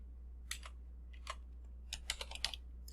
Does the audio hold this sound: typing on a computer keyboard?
yes